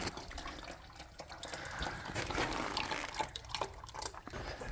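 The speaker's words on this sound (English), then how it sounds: "I have a few drips." Oil or fluid dripping and trickling from under a Massey Ferguson 165 4WD tractor during front axle repair, a steady splashing patter of liquid that swells into a heavier flow, close by and alone.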